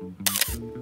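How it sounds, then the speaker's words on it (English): A film SLR camera firing once: a loud mechanical clack as the mirror flips and the shutter releases, followed by a soft thump as it settles, close and alone over faint background hum. "So the SLRs usually have a famously loud noise of the mirror or whatever it is flopping down and the sound of the shutter."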